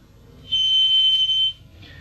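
Acoustic feedback between a microphone and a loudspeaker: a single piercing, steady high-pitched shriek lasting about a second, loud and sudden, then cut off, over a faint low background hum.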